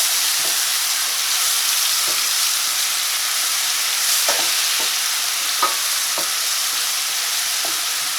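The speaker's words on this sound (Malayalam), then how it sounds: "ഈ ജിഞ്ചർ ഗാർലിക് പേസ്റ്റ് ഇതിനകത്ത് കിടന്നിട്ട് നന്നായിട്ടൊന്ന് മുരിഞ്ഞ് വരണം." Ginger garlic paste frying in hot oil for chilli chicken gravy, a bright continuous sizzle with a handful of soft scraping stirs scattered through it, close and loud.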